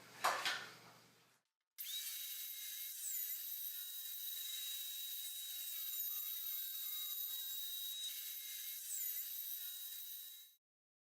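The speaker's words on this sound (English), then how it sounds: "I'm going to make 1 long cut on this side, 1 long cut on this side, and 1 cut in the middle" A power tool cuts lengthwise through a wooden floorboard, a steady high whining drone held for about nine seconds after a brief opening noise and a short silence, then stopping abruptly.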